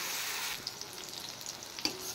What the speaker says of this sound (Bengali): পেঁয়াজ সহ একবারে ভাজা হয়ে গেছে